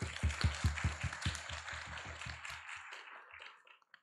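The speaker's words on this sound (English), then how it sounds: "Please join me to give a big round of applause for our judges." Audience applause for the debate judges at a community chamber debate event, a burst of rhythmic clapping that thins out and fades over about four seconds.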